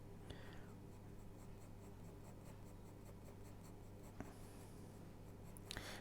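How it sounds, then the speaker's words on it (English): A pencil glides on and off art paper in quick tapered strokes while drawing hair, a faint, steady, rhythmic scratching close up against a quiet background. "the tapered stroke is a series of lines where we're gliding on and off of the paper with each stroke"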